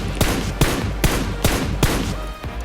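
Rapid bursts of gunfire in the battle royale video game BGMI, four or five sharp, loud shots spaced roughly every half second, with no voices.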